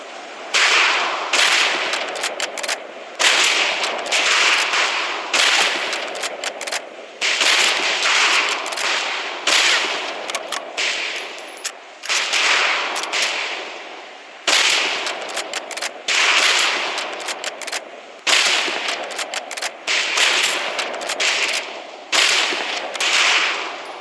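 Rifle fire crackles on a shooting range in the video game Medal of Honor: Pacific Assault, with sharp, loud shots repeating in rapid, uneven bursts throughout, no speech.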